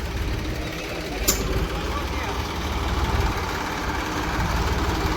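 A Holland tractor engine rumbles low and steady throughout on a farm, close by, with voices faintly mixed in over the continuous drone.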